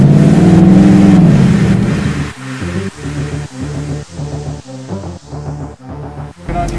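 Mercedes-Benz AMG V8 engine, fitted with twin throttle bodies, growls loudly at high revs, then drops into a choppy idle with rhythmic throttle blips and pulsing exhaust.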